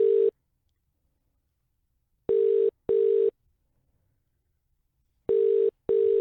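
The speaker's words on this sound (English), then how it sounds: "if it's the domestic or the international dial tone" Telephone line tone in short steady beeps, one burst then a pair, repeated twice with silent gaps between; loud and clear with no voices.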